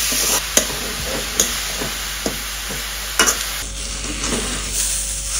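Moringa leaves fry with onion, chili and salt while a spatula stirs them in the pan, producing a continuous sizzle punctuated by several crisp scraping strokes at irregular intervals, close up and without speech.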